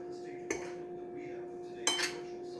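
A utensil clinks twice against a bowl while seasoned flour is mixed for rosemary turkey wings, two short bright knocks about a second apart over a steady low hum.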